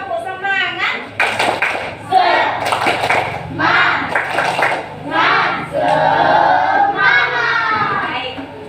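Schoolchildren in an Islamic religion lesson clap together in a quick, rhythmic pattern of bursts, mixed with kids' shouting and a teacher's voice close by.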